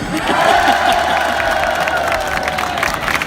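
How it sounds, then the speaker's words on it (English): A crowd at a show in Brazil cheers and shouts loudly, a close, dense roar of voices with scattered clapping that holds steady throughout. "The crowd went crazy when they gave me this."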